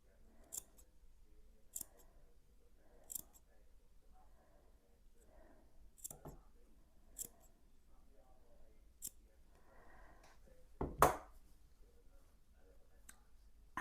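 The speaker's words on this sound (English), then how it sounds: "And then snip into that curve." Scissors snip into the curved seam allowance of a sewn fabric travel jewellery and medication pouch, a series of sharp, close, quiet clicks spaced a second or so apart, with a louder cluster of snips near the end.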